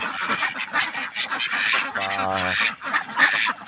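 Ducks on a duck farm quack and honk over one another in a busy nearby flock, with one clear nasal call standing out among the steady chatter of the birds.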